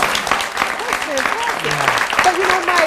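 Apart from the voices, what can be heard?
studio audience applause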